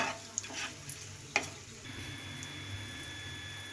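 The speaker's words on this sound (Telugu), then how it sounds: "ఇప్పుడు అందులో వెల్లుల్లి కూడా వేసుకుందాము. ఇది కూడా ఫ్రై అవ్వాలి." Dried red chilies and garlic fry quietly in oil, a faint steady sizzle with a few soft clicks and stirring taps close by, no voices.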